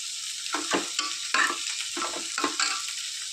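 Cooked jackfruit seeds being mashed in a pot of Kerala jackfruit seed and drumstick leaf curry, with several soft, irregular scraping and squelching strokes over a steady background hiss, close and fairly quiet.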